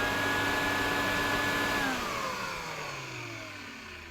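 A refurbished Electrolux Z504 vacuum cleaner motor runs with a steady, loud whine and airy rush, then its pitch falls and the sound gradually winds down as it slows, with nobody talking.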